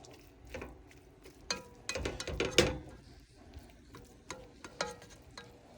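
Ground beef and bell peppers cook in a pan on a gas burner set low, with soft stirring scrapes and clatter, a few louder utensil knocks, and a light sizzle underneath, all fairly close and with no talking.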